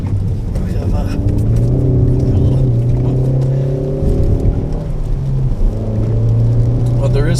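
A 2015 Ford Focus ST with the ST2 pack drones steadily while driving, its engine note rising and dipping with throttle under road and tyre noise, heard from inside the cabin while someone talks over it.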